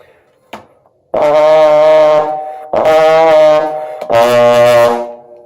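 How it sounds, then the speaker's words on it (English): Three loud, brassy trombone notes with harsh, rough attacks, each held for about a second, preceded by a faint click. "blatting sounds like this"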